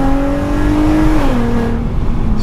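A VW Golf R32 with its 3.2-litre engine and loud, always-open exhaust valves revs close by, a strong steady tone that climbs and then drops back.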